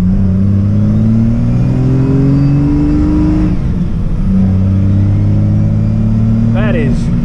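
A Cummins 3500 diesel truck with a GSK 3000 rpm upgrade accelerates hard in second gear. The engine note climbs, drops at the shift, and climbs again, loud and close from the cab, with a brief voice near the end.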